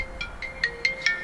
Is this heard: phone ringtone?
yes